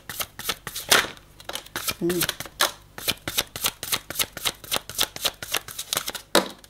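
Tarot cards shuffled by hand in a steady run of quick riffling bursts, close and crisp, with a brief murmur of speech partway through.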